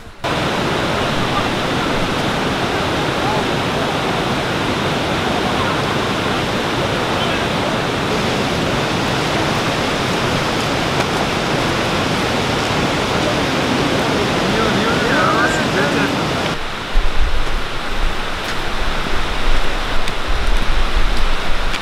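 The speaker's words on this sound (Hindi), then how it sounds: "ये पानी जो नाला बह रहा है ना ये बिल्कुल साफ है" Clear water of a mountain stream rushes along in a steady, loud, broadband wash, then the tone shifts slightly near the end as the flow continues without pause.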